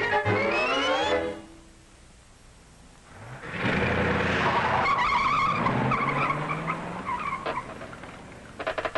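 Tires squeal sharply as a car skids, a descending screech that cuts off, followed by a pause and then a longer, louder spell of squealing and engine roar that trails away with rattling.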